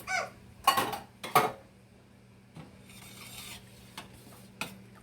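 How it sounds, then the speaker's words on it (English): Gravy being stirred in a pot, with a few loud metallic scrapes and clinks of a utensil against the pan early on, then softer, scattered taps over a low steady hum. "Stir it up."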